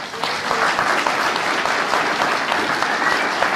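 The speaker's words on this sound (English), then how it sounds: "round of applause for us all" A conference audience breaks into brief, steady applause, a full room of hands clapping continuously at even loudness for a few seconds.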